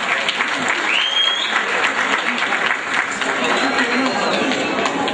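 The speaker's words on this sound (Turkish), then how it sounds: "Saygılar sunuyoruz, alkışlıyoruz." Loud, close applause from guests at a Turkish village association gathering, sustained clapping mixed with crowd chatter and voices, continuing without a break.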